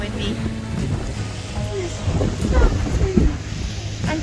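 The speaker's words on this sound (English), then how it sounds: "Oh, and it's windy." Gusty wind roars and buffets outdoors in cold weather, a steady low rumble with stronger surges midway, under occasional talk.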